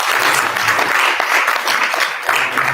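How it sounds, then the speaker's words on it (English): A room full of people at a youth conference applauds, a dense and fairly loud wash of clapping that carries steadily from start to finish with faint voices mixed in. "Let's clap for you."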